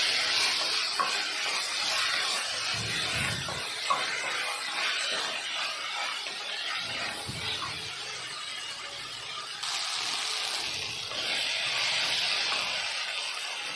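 Tomato mixture frying in a pan while being stirred, a steady close sizzle and hiss with occasional scraping strokes, no voices over it.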